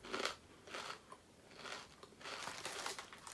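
Close, crisp crunching of sweet and spicy Hawaiian brand kettle style potato chips being bitten and chewed, several bursts in uneven rhythm, with no voice.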